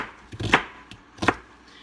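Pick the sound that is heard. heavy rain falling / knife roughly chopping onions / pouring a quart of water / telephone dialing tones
knife roughly chopping onions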